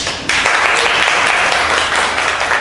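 A lecture audience bursts into dense, steady applause after a sharp opening crack, the clapping loud and sustained without a break to the end.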